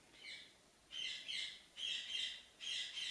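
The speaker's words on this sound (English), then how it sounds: "I have a bird." A pet bird in a quiet room gives bursts of shrill chirps and squawks, four short phrases spaced about a second apart, fairly close but not loud.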